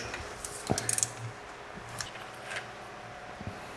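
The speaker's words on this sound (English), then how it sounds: "I'm going for the lower bolt on the starter right now." A socket wrench works on the lower starter bolt of a car, giving short ratcheting clicks and metallic clinks in a few quick bursts, close up, with no talking.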